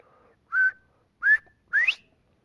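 A person whistles an imitation of the northern bobwhite quail's three-syllable call: three clear, close whistled notes in quick succession, the last one sweeping sharply upward.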